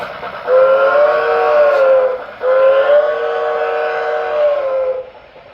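An HO scale model locomotive runs on a home layout, its whistle sounding in two long, steady blasts with a short break between, loud and close over a faint running hum, with no talk.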